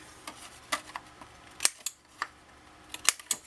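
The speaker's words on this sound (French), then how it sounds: "Alors, j'arrondis mes coins." Several sharp, crisp clicks and snaps of a small hand punch rounding paper corners, spaced irregularly, close and fairly quiet, with soft rustling between them.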